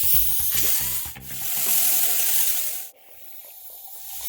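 Steady abrasive rubbing and hissing of a sanding disc working stainless steel, continuous and fairly loud, with a brief break near the end before resuming more quietly.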